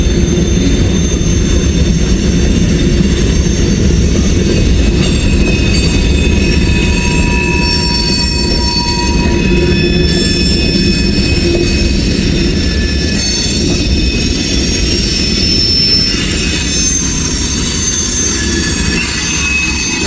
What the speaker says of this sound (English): This is going to be a big train.